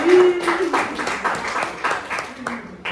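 Classroom applause for students, a scattered, steady patter of many hands clapping at moderate loudness throughout, with a teacher's voice talking over it.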